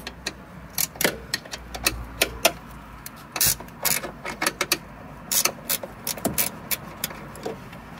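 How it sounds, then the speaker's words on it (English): A 14mm ratchet works loose a front suspension bolt on a BL Mazda 3, giving bursts of close, sharp metallic clicks in irregular runs with brief pauses, alone without talk. "I can just grab a 14mm ratchet, and I should be able to get it the rest of the way off"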